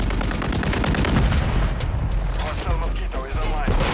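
Rapid bursts of close, loud gunfire in a Call of Duty: Modern Warfare 3 match on PS5, shots rattling continuously through the moment while players talk over the action.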